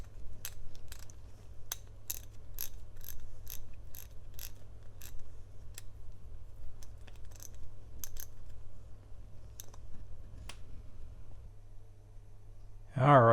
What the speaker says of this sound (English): let's give this newly renewed wrench a try